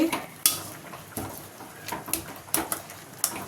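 Green chillies are mashed in a metal pan for gongura curry, with sharp scattered clinks and scrapes of a utensil against the pan, fairly quiet, no talking.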